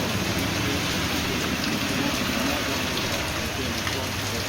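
Heavy rain pours down across Alluri and Eluru districts, a dense, unbroken hiss of falling water holding at an even loudness throughout with no pauses.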